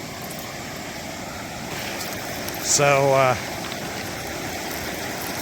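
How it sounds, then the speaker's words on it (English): Steady broadband rush of river water tumbling over rocks, continuous throughout, with a brief spoken word and a short tonal sound partway through. "the natural evolution of the river drops and going through some rocks right here"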